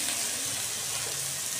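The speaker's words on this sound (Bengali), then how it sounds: "মশলাটাকে ভাজা করব।" Onion and spices frying in a pan, a soft, even sizzle and hiss heard up close, steady and unbroken, with no talking.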